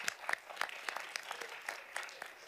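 An audience claps at a school Board of Education meeting, with a few scattered, distinct claps and light applause at a distance, fairly faint.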